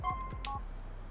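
Phone dialing in GTA: The Lost and Damned: a few quick keypad tones ring out close and clear, followed by a short higher electronic chirp, with no talking.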